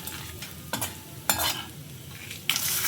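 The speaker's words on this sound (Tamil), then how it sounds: "கடலைப்பருப்பு வறுந்ததுக்கப்புறம் வறுந்துச்சு கடலைப்பருப்பு" Chana dal frying in a pan for Tamil-style coconut rice, a soft continuous sizzle broken by a few sharp scraping stirs of a spoon against the pan, close by and without speech.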